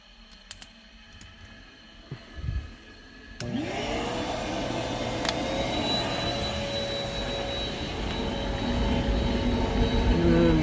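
A few light knocks and handling sounds come first. Then the fan on an oil burner switches on abruptly into a steady, loud blowing whir that rises briefly in pitch and holds, with no talk.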